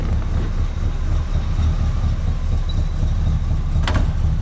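A car engine with a MagnaFlow dual exhaust idles steadily after a cold start, a low, even rumble holding close and constant with no other sounds over it.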